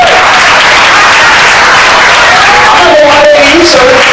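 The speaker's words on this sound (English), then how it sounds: "One more round of applause." Wedding guests applaud at a reception, very loud dense clapping with a few whoops and voices rising over it near the end.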